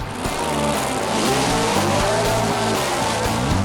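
A 1938 Pro Mod Chevy drag car with a full body and an alcohol-fuelled motor at The Strip in Las Vegas, its engine letting out a loud, sustained, rising and falling roar close by.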